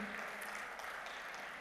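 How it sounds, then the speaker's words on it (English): Audience applause at a BioAsia 2024 life sciences conference partnership ceremony, a steady, fairly faint wash of clapping from a crowd, continuous throughout. "With a huge round of applause, let us acknowledge this partnership."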